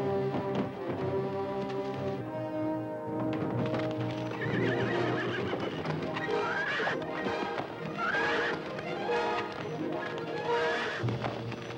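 Horses whinny and their hooves clip-clop, loud and close, in a 1951 western movie scene, with a busy background of continuous movement, hoof clatter and neighs throughout.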